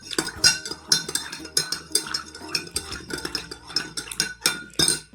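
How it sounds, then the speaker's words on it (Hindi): A metal spoon stirs a drink in a cup, giving a quick run of close, bright clinks and scrapes against the sides, repeating in an uneven rhythm with no talking. "इनू हुण तुसीं चमचे दे नाल ना घुमा लोगे,"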